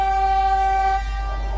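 A steady, loud rumble of a passing train near the Nine Arch Bridge in Ella, Sri Lanka, with a sustained horn tone, the horn cutting off partway through.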